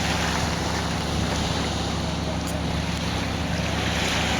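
Surf along a beach in Negril, Jamaica, rolling in as a constant loud wash of broadband noise with some wind buffeting the microphone throughout.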